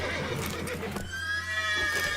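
Several horses whinny and neigh loudly in The Witcher 3, with a long shrill neigh ringing out in the second half over a steady background hum and faint hoof clatter.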